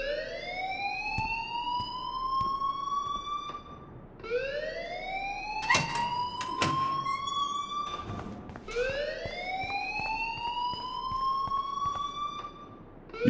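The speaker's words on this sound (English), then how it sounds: "please turn off that alarm" A rising, wailing electronic alarm repeats in long sweeping cycles in the Life Is Strange video game, loud and steady, with a few sharp clanks and knocks between sweeps and no talking.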